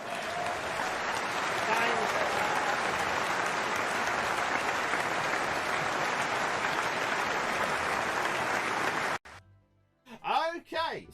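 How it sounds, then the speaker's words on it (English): A round of applause at an online video game awards show for Amstrad CPC games, steady dense clapping for about nine seconds before cutting off abruptly, followed by a short spoken remark. "Let's give Yellow Belly there a round of applause"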